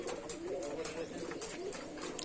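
A red Mushki desi pigeon coos in a steady low warble that rises and falls, close by, with light ticking sounds repeating in the background.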